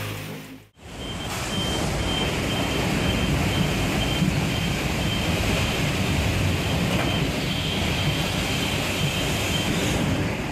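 A train arrives at speed at a flooded station platform, a dense, loud roaring wash of noise that follows a brief cut, steady and continuous to the end, with no voices.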